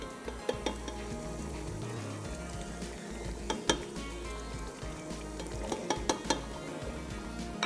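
Tomato and onion purée hits a hot frying pan and sizzles steadily, close up. A spoon clinks and scrapes against the pan repeatedly while the mixture is stirred, and no one speaks.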